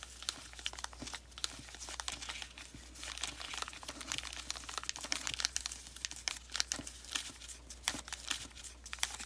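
Recycled paper crinkles and crumples as it is creased and folded into an origami crane, producing soft, close crackles and rustles throughout with no talking.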